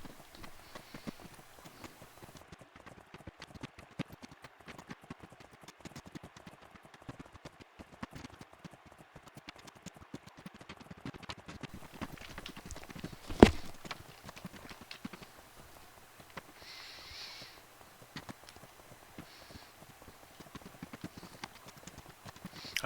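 Horse hooves clip-clopping in a unicorn princess video game, a faint, rapid, steady patter of light hoofbeats with one sharp louder knock midway, no talking.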